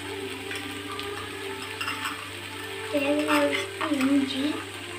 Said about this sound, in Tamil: அப்பப்போ மூடியை ஓப்பன் பண்ணி தக்காளியை நல்லா வதக்கி விட்டுக்கணும்.